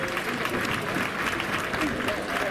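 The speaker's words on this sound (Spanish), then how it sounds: "Fuertes aplausos para la Villarda y para La Acogida." Strong applause from a crowd at a folk music performance during a romería village festival, a steady dense clapping that fills the whole moment at close range, with a few voices mixed in underneath.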